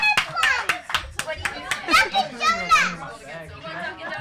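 At a Christmas show, children shout and scream excitedly amid clapping and lively chatter, a loud, busy crowd of young voices close by.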